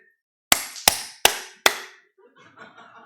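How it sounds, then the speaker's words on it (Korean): Four sharp hand claps at an even pace, close and loud, from a participant in a church prayer gathering, followed by a murmur of voices. "6 하면은 3 빼면 3번 박수 치셔야 돼요"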